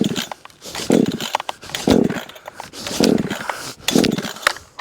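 A cheap Amazon chainsaw being pull-started, four rhythmic rasping recoil pulls about a second apart, each a short burst of cord and engine churn without catching, close by.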